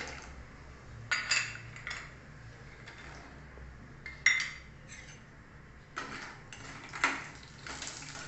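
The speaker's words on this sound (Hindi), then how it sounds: "अब इसमें सबसे पहले हम ड्राई फ्रूट को फ्राई कर लेंगे थोड़े से सेक लेंगे इन्हें" Dry fruits being stirred and roasted in ghee in a pan for gond laddu, heard as intermittent metallic scrapes and clinks of a spoon against the pan over a faint low background, with no talking.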